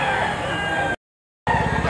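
Rooster crowing and clucking at the Lipa poultry auction market, a Talisay-type cock about a year old, close and loud with a short gap of silence midway.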